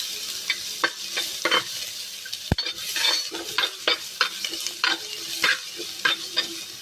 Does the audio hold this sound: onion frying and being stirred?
yes